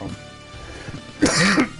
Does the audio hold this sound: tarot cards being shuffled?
no